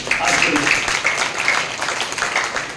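A seated audience gives a short round of applause for seven schoolgirls at a school event, a dense steady patter of many hands clapping throughout.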